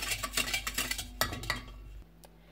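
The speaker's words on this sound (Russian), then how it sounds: "размешиваем." Spoon stirring pancake batter of water, baking soda, sugar and salt in a bowl, a quick run of close scraping clinks for about two seconds before it stops.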